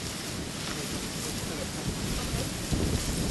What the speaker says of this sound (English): Wind may be an issue.